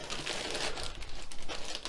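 A plastic packet crinkles up close while comic singles are unboxed, a soft, brief run of rustling and crackling at low volume.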